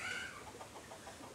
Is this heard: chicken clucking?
yes